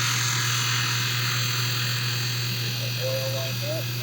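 A sphere grinding machine shaping Andromeda jasper runs at low speed, giving a steady close electric hum and buzz with a faint warbling squeal near the end.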